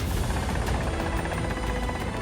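Steady, loud helicopter rotor and engine drone from a chopper flying overhead, a continuous close roar with faint rhythmic blade thumping throughout and no voices.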